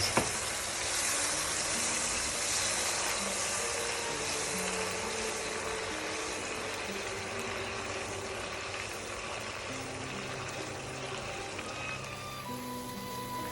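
Risotto rice stirred steadily in a pan with champagne and lemon juice, a soft continuous sizzle and scraping that holds at a low, even level throughout.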